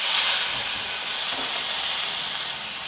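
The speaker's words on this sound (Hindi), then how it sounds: "1 से 2 मिनट ये आलू को मैं थोड़ा सा फ्राई कर लूँगी तेल में" Potato pieces frying in hot oil with tempering spices make a continuous, fairly loud hiss and sizzle, strongest at the start and then steady, with no speech.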